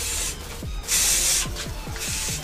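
Several bursts of aerosol spray hiss close by onto a Honda TMX motorcycle and its engine, with faint rubbing and light knocking sounds in between.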